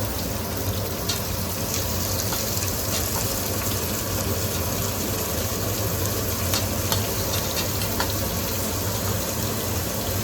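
Tomato pieces hit a hot pan of prawn biryani masala, setting off a steady, dense frying sizzle that runs close and loud throughout, with faint stirring scrapes and no voices.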